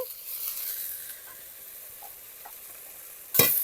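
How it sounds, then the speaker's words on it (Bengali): Ginger-cumin paste with a splash of water and slit green chillies hisses and sizzles in a pan, a steady soft fry that ends in a sudden loud burst of sizzling. "আদা জিরে বাটা দিয়ে আমি অল্প একটু জল দিয়ে দেব আর এর মধ্যে আমি চার পাঁচটা চেরা কাঁচা লঙ্কা দিয়ে দিচ্ছি"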